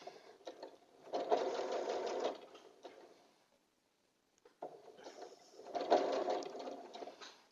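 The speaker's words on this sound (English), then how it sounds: "I let the machine sew that" A sewing machine stitches curved quilt pieces in two whirring runs, separated by a brief near-silent pause, close and fairly quiet.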